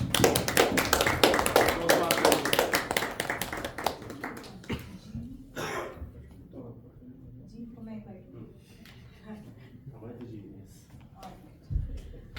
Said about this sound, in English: Please give a huge round of applause to Toastmaster Ishita.